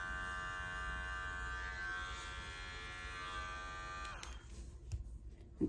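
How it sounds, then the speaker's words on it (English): An electric clipper trims the hair of a Shih Tzu mix dog with a steady close electric hum, then it cuts off partway through, leaving faint rustling and small handling sounds. "So I'm just taking my clipper straight in, going in, but not scooping."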